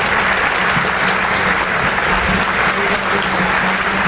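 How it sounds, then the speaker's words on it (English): A school academic awards audience breaks into loud, continuous applause, dense clapping filling the whole few seconds at an even level. "Can you give them all a giant round of applause?"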